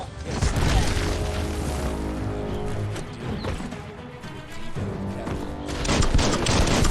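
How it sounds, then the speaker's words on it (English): Dense video-game gunfire, rapid overlapping shots and bursts crackling continuously with booming impacts, loud and close, swelling again near the end. "Bullets everywhere."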